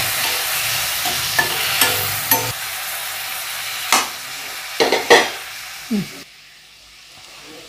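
Four tomatoes fry in a pan for garlic chutney. A steady close sizzle and hiss runs under several scraping stirs, and the sizzle drops quieter near the end.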